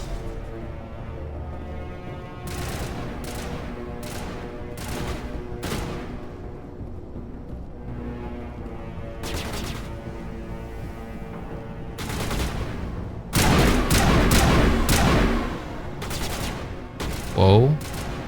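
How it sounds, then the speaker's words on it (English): Enemy gunfire in the Mass Effect video game: sparse bursts of shots early on, then a heavy sustained volley near the end, loud and close, with game sounds and some talk around it. "Where are they shooting from?"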